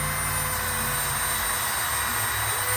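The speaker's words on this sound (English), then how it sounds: "I apologize for the loud noise, but this has been just gently working it with this wire brush." A wire brush on a rotary tool works over a quartz crystal cluster, producing a loud, steady, continuous whirring and grinding roar that holds throughout with no talking.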